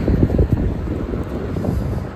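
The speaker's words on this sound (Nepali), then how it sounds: "कस्तो आनन्दको के कुल फ्रेस हावा" Cool wind blows across the Chandragiri hilltop above Kathmandu, a loud low rushing roar buffeting the microphone continuously with no speech.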